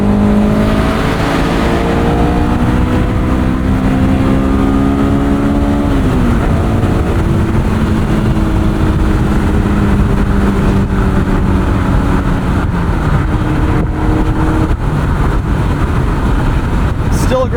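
A 2001 Honda S2000 convertible on winter tires cruises the highway with its engine droning and shifting pitch through the gears, heavy wind and road roar filling the cabin throughout, loud and close.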